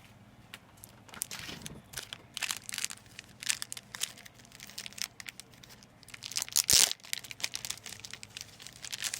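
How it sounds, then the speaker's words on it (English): A stiff cardboard mailer envelope is opened and handled up close, with a smaller envelope inside, giving irregular crinkling, tearing and rustling bursts and one sharp rip, with no talking. "It comes in a harder cardboard envelope, and then you get a smaller envelope inside."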